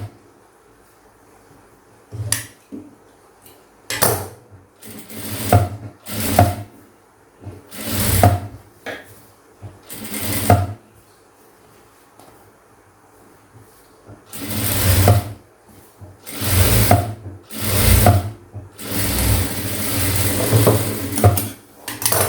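A sewing machine stitches a seam along a blouse sleeve in repeated short bursts, each run of rapid stitching stopping and starting again, close and fairly loud, with pauses of near quiet between.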